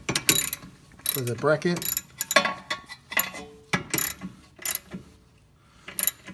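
A ratchet wrench with a 14 mm socket turns the rear brake bolts on a Honda CRX, giving close, repeated clicking bursts between short stretches of someone speaking.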